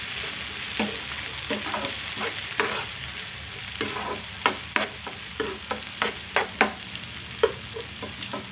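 Onions, green chillies and tomato pieces fry in a pan with a steady sizzle, while a spatula knocks and scrapes the pan in frequent, irregular stirring strokes, close up with no talking.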